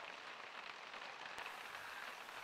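Hail falling in the video game The Sims 2, a faint, steady patter of small hits like hard rain on a surface, with one sharp crack partway through.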